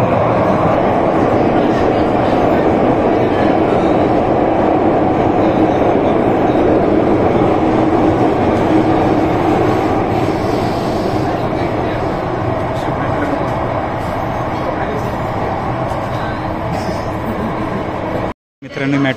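Inside Mumbai's underground Metro Line 3, a moving train gives a loud, constant roar and rumble for most of the stretch, with a brief dropout near the end.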